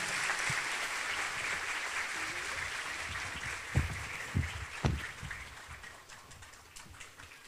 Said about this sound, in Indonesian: Kasih tepuk tangan untuk guru kita semua